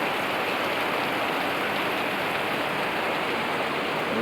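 Heavy rain pours down in Bangalore, a dense, unbroken roar of drops on hard surfaces, loud and even throughout.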